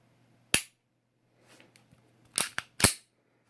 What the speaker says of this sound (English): let me show you that trigger pull again on the gun here